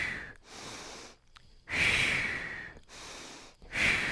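Deep breaths in and out during a slow mobility exercise, close and fairly loud, with long airy inhales and exhales separated by brief pauses, no talk.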